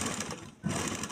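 Sewing machine stitching elastic onto a palazzo waistband, a steady close whirring run that dips briefly mid-way before resuming at full speed.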